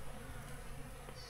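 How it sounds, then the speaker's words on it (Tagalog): Faint, continuous buzzing of a swarm of flies circling a newborn goat's afterbirth outdoors, a steady insect drone with no talking. "kaya pala madaming langaw"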